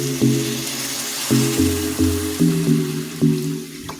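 Broth is poured into a cooking pot of dried puti fish with banana flower and radish, producing a series of gurgling, splashing pours in uneven bursts, close and moderately loud, with no talking.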